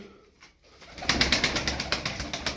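Çapar tumbler pigeons coo close by in a quick pulsing series of soft, throaty calls that begin after a quiet moment and repeat steadily to the end.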